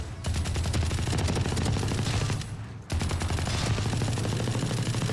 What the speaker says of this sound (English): Then you have your LMGs.